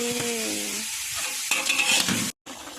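Chicken stir-fry for a Thai drunken-noodle-style dish bubbles and sizzles steadily in a pan, with a busy hiss throughout and scraping stirring in the second half, briefly cut off near the end.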